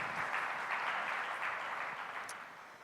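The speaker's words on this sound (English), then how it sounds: "Can we have a round of applause for a lovely presentation?" An audience applauds after a presentation, a dense even patter of many hands that holds steady for a few seconds and begins to ease at the end.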